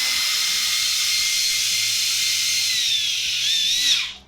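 A Ridgid 18V compact cordless blower runs with a steady, loud, airy roar. Its pitch and strength shift near the end as the trigger is throttled, then it cuts off abruptly.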